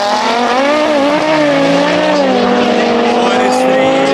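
A CPI-tuned Audi RS3 and a BMW drag race side by side, engines roaring loudly and continuously with rising, shifting tones while a voice talks over the noise.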